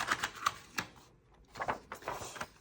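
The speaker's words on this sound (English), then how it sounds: "I'm gonna go ahead and pull this paper out." Paper sheet pulled free from a happy planner on a budgeting desk, a few crisp papery rustles and scrapes with a short pause midway, close and fairly faint, no talking.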